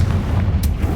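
A Confringo fire-curse blast in the Hogwarts Legacy video game lands as a deep, rumbling boom that fills the whole second, loud and close.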